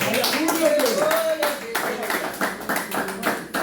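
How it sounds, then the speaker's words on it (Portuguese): A church congregation claps hands in praise during a worship service, a dense run of rhythmic claps filling the room while a voice speaks or sings over them. "louvando ao Senhor com palmas"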